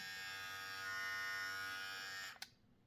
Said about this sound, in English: let's press this button to hear the sound. It has a small vibration in your hand, and the sound is not so disturbing.